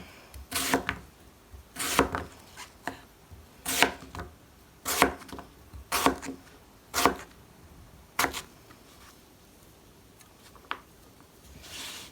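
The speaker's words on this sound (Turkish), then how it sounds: "Mangomun yarısını aldım. Küçük küçük küp küp doğrayacağım." A knife dices mango into small cubes on a cutting board in a series of sharp, uneven strikes, close up, with quieter pauses between cuts.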